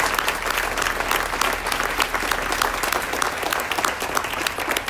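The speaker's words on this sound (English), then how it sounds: "So I would like us all to applaud this organization for its commitment to this mission." A ribbon cutting audience claps steadily, a dense wash of applause holding at an even loudness from start to finish with no voices on top.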